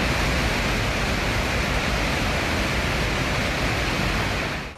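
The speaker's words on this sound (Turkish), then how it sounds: "Rize'deki Ağran Şelalesi taştı." Ağran waterfall in Rize, overflowing after heavy rain, roars as a dense, continuous wall of rushing water, loud and unbroken throughout with no voices.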